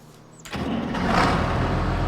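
An old beat-up tractor engine by a shed cranks briefly, then catches and settles into a loud, steady idle, close by and alone with no talking.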